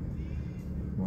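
A car's engine rumbles nearby in a low, steady hum with a faint whir, brief and moderately quiet, no voices over it.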